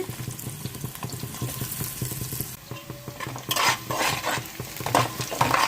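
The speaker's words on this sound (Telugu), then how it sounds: "మసాలాలు వేగుతున్నాయి ఇప్పుడు ఉల్లిపాయలు వేసుకుందాము సన్నగా తరుక్కున్న ఉల్లిపాయ ముక్కలండి" Thinly sliced onions fry with whole spices in a pot, a close sizzle broken by stirring scrapes and splashes. Louder bursts of frying come in the second half.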